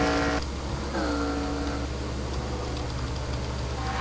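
Race cars running under caution in a NASCAR-style racing video game, with steady engine drone and tonal whines shifting pitch as the cars circle at reduced speed.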